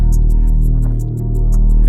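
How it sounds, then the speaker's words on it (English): Trap hi-hat percussion loop from a producer drum kit, a steady run of crisp, bright ticks bouncing in a quick rhythm over a sustained low bass tone, loud and without any voice. "It's just like a hi-hat bouncing around."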